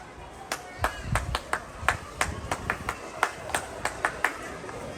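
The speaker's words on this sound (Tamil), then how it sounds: "Scout and கைட்ஸோட clap." A group claps the Scout and Guides clap, sharp hand claps beaten in a repeating 1-2-1-2-3 pattern, with about sixteen crisp, close claps in quick grouped bursts.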